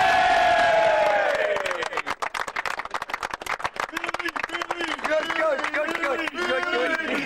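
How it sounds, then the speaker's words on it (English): A crowd at a rugby league cup final cheers and applauds the Skirlaugh winners. Loud whoops give way to rapid, sharp clapping, with voices shouting and chanting rhythmically over it. "a really good round of applause for the new Yorkshire Electricity Cup owners"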